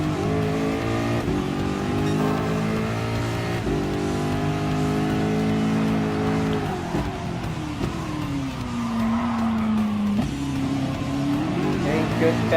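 A Ford GT LM Spec II race car in Gran Turismo Sport gives a loud, continuous engine note that rises and falls with each gear change and corner, while a person talks over it.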